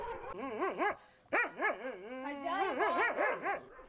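A dog in a yard gives a quick run of yelping, whining barks, high and wavering, close by, with a short pause in the middle.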